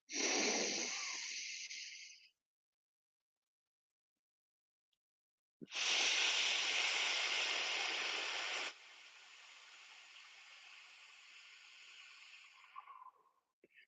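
Slow, controlled breaths during a yoga exercise: a soft breathy inhale, a long pause, then a longer, louder exhale that fades into a quieter trailing breath, close and steady with no talking.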